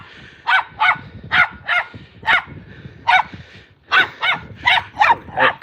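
A terrier barks loudly and repeatedly while playing, sending out about a dozen sharp, close yaps in quick uneven bursts with short gaps between them.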